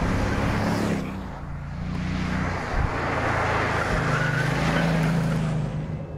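A Bugatti accelerates hard at full throttle with a loud, sustained engine roar and rushing noise that builds steadily and shifts pitch partway through.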